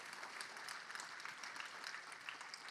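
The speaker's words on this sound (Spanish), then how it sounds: "Den una ofrenda de palmas al Rey de Reyes" Church congregation clapping as an offering of praise, a dense, steady wash of applause lasting the whole moment with no pauses.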